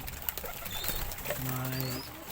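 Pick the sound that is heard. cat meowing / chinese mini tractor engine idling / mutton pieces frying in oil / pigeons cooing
pigeons cooing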